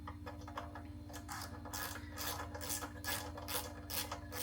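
Last bolt being worked off a pressure washer engine's valve cover, faint repeated ratcheting clicks and rasping turns in quick bursts, close by and quiet.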